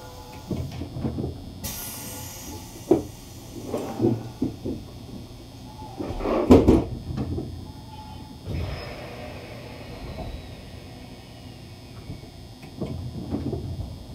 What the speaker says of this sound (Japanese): ドアを閉めます。